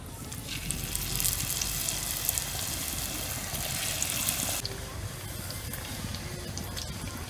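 Jackfruit leaf fritters frying in hot oil give a steady, dense sizzle throughout, close and fairly loud, with a slight drop in brightness partway through.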